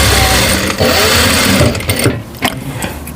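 A sewing machine stitches soft, delicate fleece fabric, giving a loud, steady mechanical whir that holds for most of the stretch, briefly slows, and eases off near the end.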